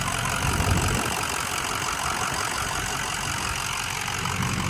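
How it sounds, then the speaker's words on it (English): A hot 2006 Ford F350 Sport with a Powerstroke engine and a Fabtech lift idles close by: a steady, dense rumble with an even clatter and no voices. "This is a nice hot engine, okay?"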